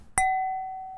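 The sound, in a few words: unprocessed tone of a wine glass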